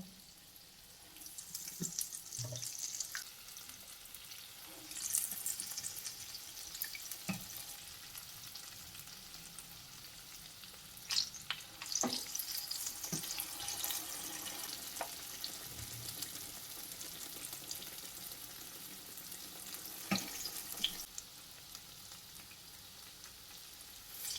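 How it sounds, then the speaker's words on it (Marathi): Urad dal vadas deep-frying in oil give a continuous soft bubbling sizzle throughout, with occasional louder crackles and clinks nearby. "प्रत्येक वेळी वडा तयार करताना हात ओला करून घ्यायचा"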